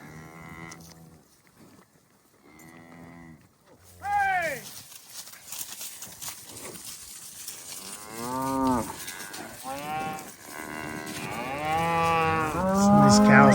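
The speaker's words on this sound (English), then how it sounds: "Some of these cows are pretty worried about the dogs, and they need to just line out and go." Cattle on a Colorado ranch moo repeatedly during fall ranch work, several loud drawn-out calls at varying distances, with someone talking and horse hooves clip-clopping in the background.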